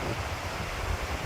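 Strong wind sweeping across a lake at St. Albans, Vermont, whipping up waves: a steady, loud broadband rush with low rumbling surges, continuous throughout with no voices.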